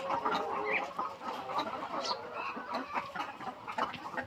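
Several chickens cluck and murmur close by, a busy overlapping chatter of short calls with a few sharper squawks.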